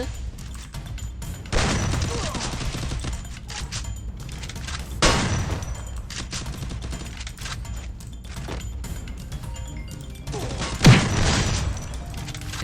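Bursts of gunfire and booming blasts in the game Free Fire, three heavy hits spaced apart over ongoing clatter and faint voices.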